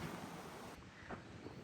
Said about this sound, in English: It's really windy, so we'll wait and see about that.